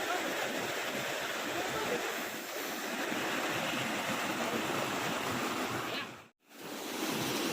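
A steady, loud rush of falling water from a waterfall in Morowali, Indonesia roars continuously, briefly cutting out near the end before resuming.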